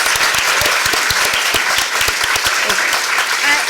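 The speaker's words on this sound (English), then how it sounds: "Give yourself a round of applause." An audience applauds at a film screening: dense, steady clapping from a crowd that fills the room, close and sustained throughout.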